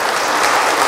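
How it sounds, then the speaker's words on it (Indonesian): An audience applauding at a special televised program marking one year of the Prabowo-Gibran government: a brief, dense wash of many hands clapping, loud and steady, with no speech. "Boleh diberi tepuk tangan Bapak Ibu untuk di atas 8 ini."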